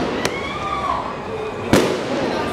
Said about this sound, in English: Wow, look at the fireworks coming out of that little tube.